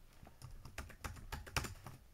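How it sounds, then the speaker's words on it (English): Quiet clicks of typing on a computer keyboard, a short burst of about a dozen keystrokes in an uneven rhythm, heard up close with no talking. "let's start off by just typing in the word"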